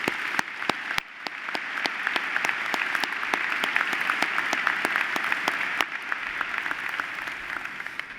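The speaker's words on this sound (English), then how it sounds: "One more time, will you join me in applause for these folks?" Graduation ceremony audience applauding at Georgia Tech's spring commencement, steady mid-level clapping from a large crowd, with a few sharp, distinct claps standing out close by throughout.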